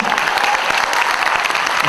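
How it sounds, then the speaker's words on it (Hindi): Audience at a bank's platinum jubilee celebration breaks into brisk, lively clapping, a dense burst of many hands heard close and loud through the short stretch. "वेरी गुड, तालियां होनी चाहिए आप लोग की प्लीज"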